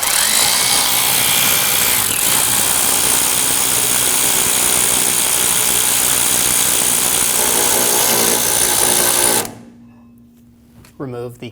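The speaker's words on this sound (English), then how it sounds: "Using a 14mm triple square, we're going to remove our 2 caliper bracket bolts." Power tool running continuously and loudly while removing the two 14mm triple-square caliper bracket bolts on a 2012-2022 Volkswagen Passat rear brake, cutting off abruptly near the end before a few quieter clanks.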